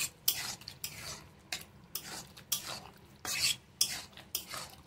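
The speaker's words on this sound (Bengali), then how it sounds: "দিয়ে এবার সব নাড়িয়ে নেবো, ঘেঁটে দেবো" A spoon stirs chutney with cashews around a hot pan, making about eight rhythmic scraping strokes over a soft sizzle, each stroke close and distinct.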